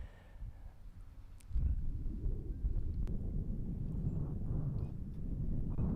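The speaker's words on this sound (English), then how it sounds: "Oh, a little wind." Wind gusts across an outdoor disc golf course during a tournament round, a low, rough buffeting on the microphone that swells suddenly and then keeps blowing steadily.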